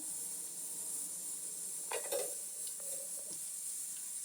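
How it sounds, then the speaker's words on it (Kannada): A couple of spoons of oil heat in a pan to temper spices for a village-style mutton blood fry, giving a steady close sizzle and hiss with a few light scrapes and clinks partway through. "ಇವಾಗ ಎಣ್ಣೆ ಹಾಕ್ತಾ ಇದ್ದೀನಿ ನೋಡಿ ಒಂದೆರಡು ಸ್ಪೂನ್ ಎಣ್ಣೆ"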